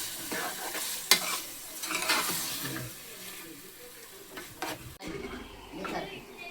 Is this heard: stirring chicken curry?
yes